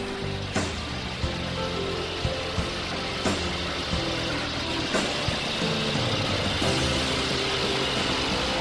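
Gasoline engine revving steadily, a continuous loud mechanical drone with periodic surges and small clanks throughout, no voices.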